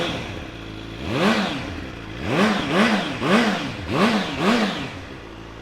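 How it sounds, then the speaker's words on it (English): Suzuki GSX-R750 K8 sports bike from 2008 cranks into life and then gets five sharp, evenly spaced throttle blips. Each one swells and falls back to idle. The engine sounds close and loud, with no one talking. "Don't need to spend any money tightening it up, so we'll give it a start for you."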